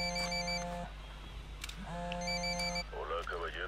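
A telephone rings inside the Ghost Recon video game, two bursts of electronic ringing separated by a short gap, followed by a warbling tone; no talk over it.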